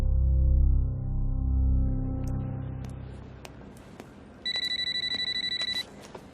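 A telephone rings once in a tense Indian police-thriller scene: a short burst of repeated electronic trill pulses near the end, following low rumbling ambience and a few faint clicks.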